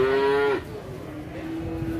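A single short moo from a Limousin cross cow at a cattle trader's yard, loud and near, tapering off into low farmyard background noise.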